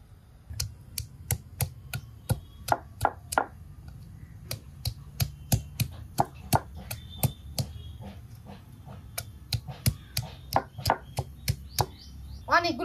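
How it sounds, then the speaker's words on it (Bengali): Garlic cloves are crushed on a stone grinding slab (shil-pata), a long run of sharp, close knocking strikes in an irregular rhythm, some in quick clusters, over a low steady background hum. "অনেকগুলো শাক, একটু বেশি পরিমাণে রসুন থেতলে নিলাম।"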